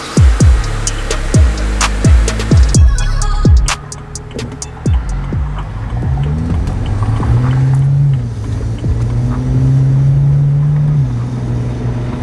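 A BMW 335i with the N54 twin-turbo engine and catless downpipes revs in a series of sharp, close blips, then settles into a steadier, rising drone with whooshing turbo spool.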